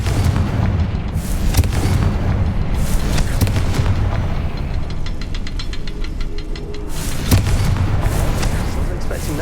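A Confringo blasting spell goes off in Hogwarts Legacy, a loud booming burst over dense, continuous game ambience and rumbling effects, with a second heavy blast later on.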